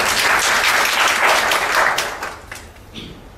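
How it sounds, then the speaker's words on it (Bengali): An audience at a workshop applauds loudly, with dense, sustained clapping that holds strong for about two seconds, then thins and tapers toward the end. "না, জোরে তালি দেন সবাই।"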